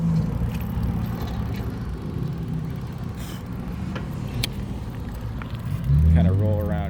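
Road traffic rolls past a car driving through a commercial strip, a continuous engine and tyre rumble swelling as a vehicle passes near the end, with a person talking over it.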